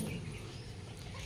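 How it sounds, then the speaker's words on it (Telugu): A dog near a household where children are being readied for lunch, a brief faint canine sound over a steady low background. "కుక్క."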